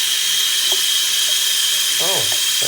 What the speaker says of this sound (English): We have water running in the sink.